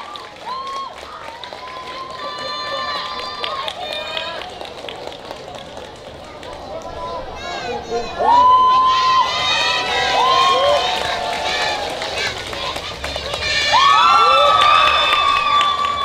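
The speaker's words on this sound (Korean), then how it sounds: "여러분들 많은 박수로 함께 해주시길 바라겠습니다" A crowd at an outdoor spring flower festival youth dance contest cheering and shouting with scattered applause, swelling louder in bursts, while children's voices and musical tones ring over it.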